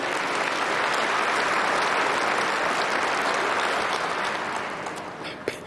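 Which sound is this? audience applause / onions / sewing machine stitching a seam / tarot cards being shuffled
audience applause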